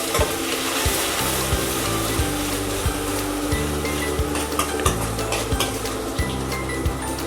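Chopped onions fry in a pan over a slow flame, a steady close sizzle with rhythmic stirring scrapes repeating throughout.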